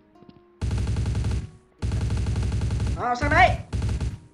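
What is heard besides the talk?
gunfire in the video game Truy kích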